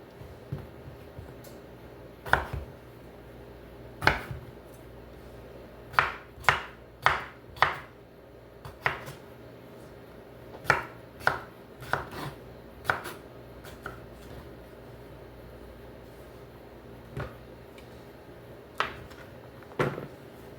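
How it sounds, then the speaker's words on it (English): Knife chopping washed potatoes into chunks on a cutting board, a steady series of sharp, close knocks spaced irregularly, alone without talk. "we're just gonna cut these up into chunks"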